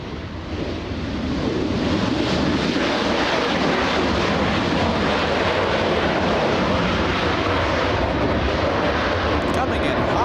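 An airliner landing at LAX roars loudly and steadily after a short build-up, a broad engine rumble with wind noise, heard close and continuous with no talk.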